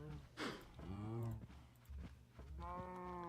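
Cows from a Sky Factory 5 Minecraft breeder moo and low repeatedly in a game, several drawn-out calls spaced across the moment, fairly close and clear with no talking over them.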